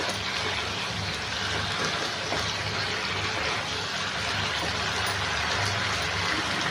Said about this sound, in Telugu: నేను లీటర్ వాటర్ వేస్తున్నాను అండి హాట్ వాటర్ వేస్తున్నాను